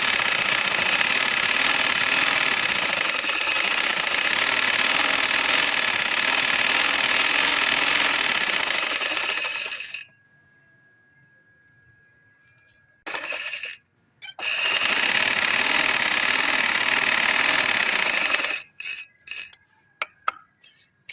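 A sewing machine stitching dress fabric for a collared frock runs in a loud, steady whirring drone for about ten seconds, stops, gives a short burst, then runs again for several seconds before falling silent.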